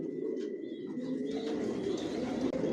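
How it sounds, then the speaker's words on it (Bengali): Racing pigeons in a loft, master and running pairs resting, give a steady low murmur of cooing throughout, with faint higher chirps above a continuous near bird chatter and no talking. "এখানে যে কবুতরগুলো দেখতেছেন এগুলো আমার মাস্টার পেয়ার, রানিং পেয়ার"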